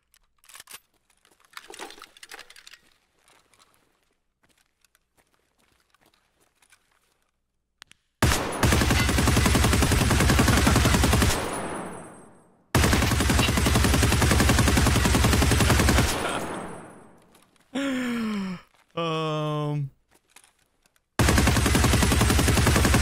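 PKP Pecheneg machine gun fires in a shooter game, in several long, loud, sustained bursts separated by short pauses, with a sweeping mechanical tail after one burst.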